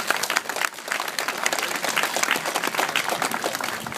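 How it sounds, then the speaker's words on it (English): An audience at a beluga whale show claps in a dense, continuous burst of applause that stays loud throughout the four seconds. "I think we should give those whales a round of applause"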